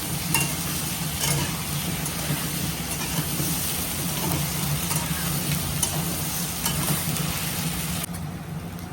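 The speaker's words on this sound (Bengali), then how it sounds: "আর এর সঙ্গে এই চুই ঝালটাও দিয়ে দেবো। একসঙ্গে কষে নেবো সুন্দর।" Chui jhal spice is stir-fried in a pan for a hilsa fish curry, giving a steady, close sizzle with scraping stirs throughout and a low hum beneath.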